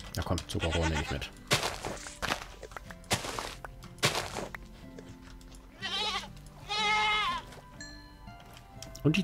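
Minecraft goat bleating several times, nasal wavering calls up close, interspersed with thumps and game sounds while a person talks at points.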